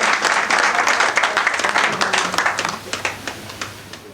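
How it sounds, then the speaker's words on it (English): An audience at a formal gathering claps for the high table, a dense burst of applause that thins out into scattered, individual claps toward the end, with a faint voice underneath. "We can clap for our high table for standing."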